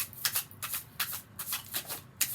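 Quick bursts of riffling cards, several rapid shuffles in a loose rhythm, close and fairly quiet, with no talking.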